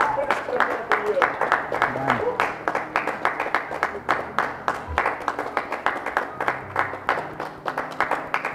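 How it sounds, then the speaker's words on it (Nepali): Audience clapping at the grand finale of a blind date show: a fast, steady, rhythmic run of claps that carries on throughout, with voices talking underneath. "ताली बजाऊ ताली बजाऊ"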